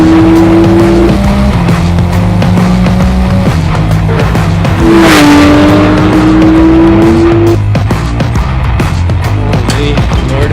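A Porsche 911 GT3 driven hard on a track, its engine loud and close, rising and dropping through gear changes, with tires squealing through the corners; no one talks.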